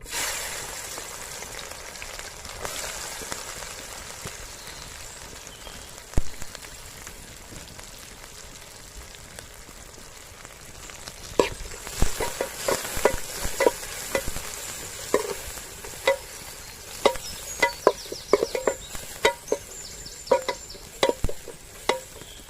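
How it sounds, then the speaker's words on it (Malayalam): Sliced onions dropped into hot oil for a Kerala-style beef biryani gravy, a continuous frying hiss that turns busier partway through, with scattered sharp clicks and taps of stirring building up near the end and no talking. "എണ്ണ ചൂടായിട്ട് നമുക്കിതിലേക്ക് സവോള ചേർത്ത് കൊടുക്കാം."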